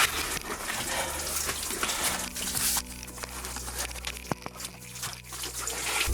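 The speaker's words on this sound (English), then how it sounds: "There's loads of water coming through here" Water trickles and runs through a tunnel in a steady, close wash of splashing flow, with a couple of sharp drips or knocks near the end.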